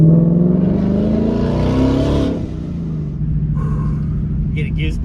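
A 2021 Mustang GT fitted with a Procharger supercharger revs with its exhaust opened in track mode, a loud close-up rising engine roar that drops off midway and is followed by a lower steady rumble and a few small clicks.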